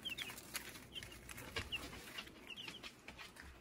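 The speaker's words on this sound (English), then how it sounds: "are they chickens or are they dinosaurs?" Chicks chirp in several short, high peeps scattered over a steady background hiss, fairly close but soft, with no talking.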